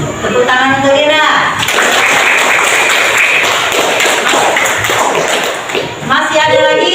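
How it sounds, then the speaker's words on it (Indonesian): Classroom applause for a student during an Islamic religion lesson, a dense burst of clapping from about 1.6 to 6 seconds, with a teacher talking before and after. "Tepuk tangan untuk Ira."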